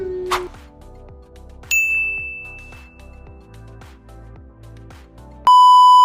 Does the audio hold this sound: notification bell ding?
yes